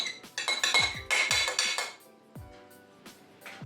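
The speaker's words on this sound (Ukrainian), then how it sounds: "Тепер ананаси додаємо до миски." Pineapple pieces are dropped into a bowl with cabbage salad, producing a handful of close clinks and knocks against the dish, clustered in the first two seconds, then a few softer taps.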